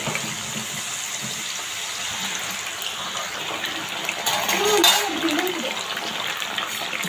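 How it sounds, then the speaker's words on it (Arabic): Potatoes frying in hot oil in a pan for a simple homemade dish, a steady loud hiss and sizzle that swells briefly midway, with a voice talking over it. "نحمر بقى البطاطس تمام"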